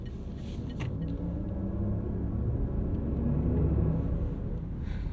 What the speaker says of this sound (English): Rolls-Royce sound is now on, and we're going to hear it for the first time together.